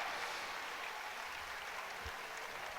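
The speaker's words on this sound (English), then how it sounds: "Takes the applause of the Falkirk fans as he heads back to centre circle." Falkirk fans applaud a penalty scorer at a Stirlingshire Cup football match, a faint, distant wash of steady clapping from the crowd.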